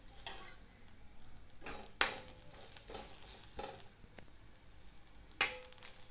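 Onion and grated coconut are stirred and roasted in a pan toward dark brown, quiet dry scraping strokes near at hand with two sharp metallic clinks of the spoon against the pan.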